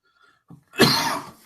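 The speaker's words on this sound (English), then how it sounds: "I don't know how many coughs you're going to have to cut out" A short breath followed by a single sharp, loud cough nearby, then quiet.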